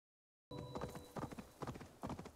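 Horse hooves clip-clopping at a steady trot while riding in Assassin's Creed Valhalla, close and rhythmic, starting abruptly after a short silence with no speech.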